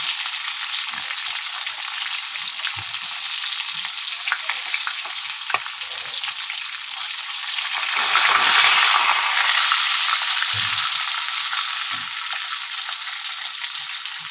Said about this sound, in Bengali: আমি এখন অল্প জিরে দিয়ে দেবো, আর একটা তেজপাতা দিয়ে দিলাম ফোড়নে।